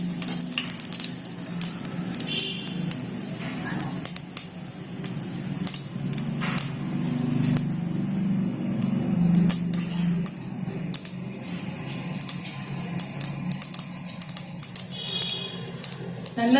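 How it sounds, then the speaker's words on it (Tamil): Mustard seeds, fennel seeds, cinnamon and bay leaf spluttering and sizzling in hot oil in a pressure cooker, a continuous crackling fry with irregular pops and stirring clinks. "நல்லா கடுகு பொரிஞ்சிருச்சு."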